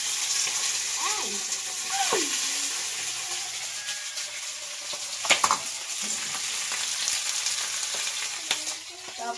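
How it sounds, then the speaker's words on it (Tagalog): Shrimp sauté in a pan with a bright, continuous sizzle and frying hiss, stirred now and then with occasional utensil clinks, close up, while a voice speaks briefly over it. "gigisahin ko muna tong hipon, mga kaus, para lumabas yung lasa niya at saka matanggal yung konting lansa niya"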